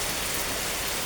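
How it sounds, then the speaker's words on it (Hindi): Steady rain falls on a farm field in an Indian village, a dense, even hiss of drops with no pauses, fairly close and alone without voices. "बारिश होने लगी"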